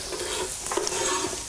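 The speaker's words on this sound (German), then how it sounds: "Das ist einfach alles so ganz leicht anbraten." Zucchini strips being lightly sautéed in a pan on a cooking show, with a soft sizzle and brief scraping stirs of a utensil against the pan over a short moment.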